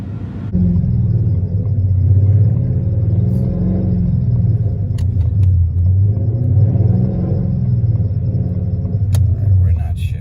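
Mustang with a rebuilt 10R80 transmission doing a burnout, a loud continuous low rumble of the engine held steady for about ten seconds, close and dominant, with voices talking over it.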